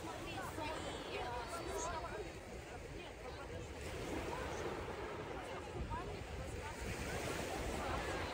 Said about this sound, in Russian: Я же на пляж пришла